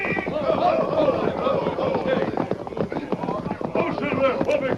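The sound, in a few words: horse galloping and neighing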